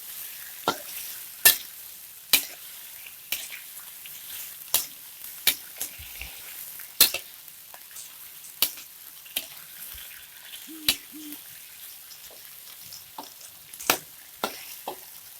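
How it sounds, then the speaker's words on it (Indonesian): Bitter gourd, squid and tofu frying in a pan, stirred with a spatula: a faint steady sizzle under a series of sharp scraping clinks at irregular intervals, close and fairly quiet. "Aduk rata. Kita aduk-aduk."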